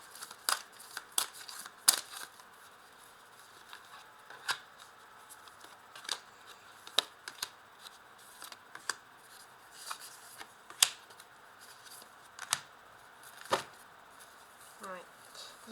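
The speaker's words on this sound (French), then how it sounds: "on va retourner un oracle de la voix des âmes" Oracle cards being turned over and handled on a table: a steady series of crisp, close slaps and snaps, roughly one every second or so, with faint room tone between them.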